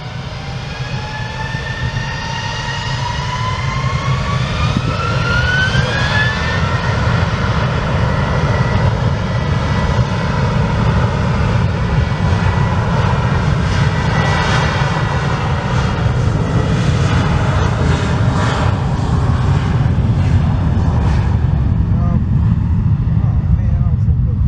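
Airbus A321 jet airliner engines roar steadily at an airport, a loud and close sustained rumble that swells after the first few seconds and holds, with a rising whine early on.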